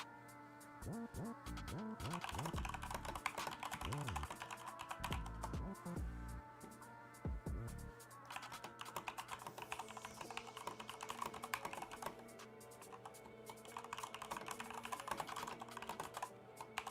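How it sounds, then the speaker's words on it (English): Rapid, steady typing on a computer keyboard during a live day-trading session, with dense continuous clicking close to the microphone and a low background hum running throughout. "Typing speed, yeah, I do about 100 words a minute or so."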